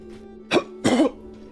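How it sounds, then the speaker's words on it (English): Two harsh coughs close to the microphone, a short one followed by a longer, throaty second burst, alone in a quiet room. "I apologize for coughing directly into everyone's ear."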